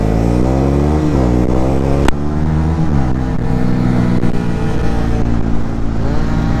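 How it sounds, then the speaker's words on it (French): A motorcycle holds a steady loud idle-to-rev drone during a small burnout, with harmonic engine tones rising and dipping as the throttle is blipped, close to the listener and without talk. "T'as vu mon petit burn?"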